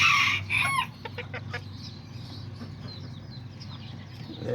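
Small chickens and a rooster, including Aztecas and Seramas, with a loud crow up front followed by scattered clucks and chirps in a steady outdoor background.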